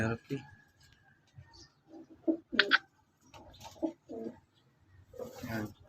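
Soft, low cooing from a sick pigeon comes in short bursts while someone talks over it at close range.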